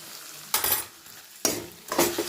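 Ingredients for a creamy malai kadhi fry in a pan, with three loud bursts of sizzling and stirring rising out of quieter cooking between them.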